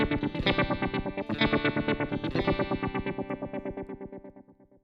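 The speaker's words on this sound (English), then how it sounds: "Another filter sequencer which features a pattern with a driving groove." Guitar played through an effects preset with a filter sequencer and no delay, a rhythmic pulsing pattern with a driving groove, steady and loud and fading toward the end.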